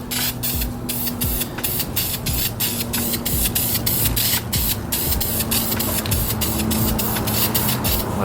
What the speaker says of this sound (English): So we're just gonna hit it with some primer.